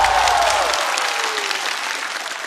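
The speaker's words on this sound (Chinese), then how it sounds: "再次掌声送给孙熙" An audience applauds at a stand-up comedy show, a dense burst of clapping that starts loud and gradually tapers off as a low tone drops away early on.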